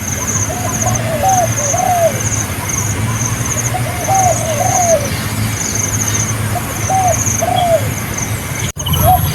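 Doves coo in soft repeated two-part phrases at mid distance, recurring every few seconds over a steady loud outdoor hum and a constant high insect-like whine, with a brief clunk near the end.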